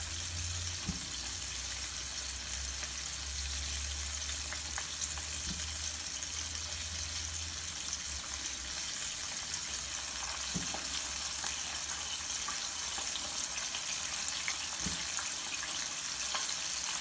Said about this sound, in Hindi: देखिए 4 मिनट हो गए एक साइड से फ्राई होते हुए।